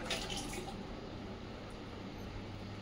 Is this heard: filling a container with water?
yes